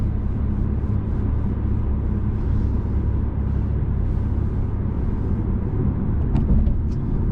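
A 2020 BMW M235i Gran Coupe with a 2-liter turbo engine drives along, giving a continuous low rumble of engine and road noise inside the car, steady and fairly loud with no talking.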